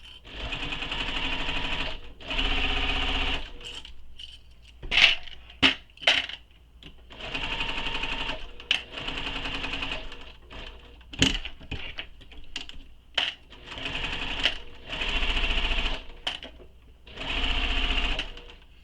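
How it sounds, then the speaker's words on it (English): A sewing machine stitches across the bottom of a fabric pocket on a soft-toy travel project in a series of steady whirring runs. Short pauses and clicks separate the runs, and the machine sounds close and alone. "Now I want to sew across the bottom of my pocket."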